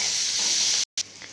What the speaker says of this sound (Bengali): এবার এর মধ্যে পেঁয়াজটা একটু লাল লাল করে ভেজে নেব।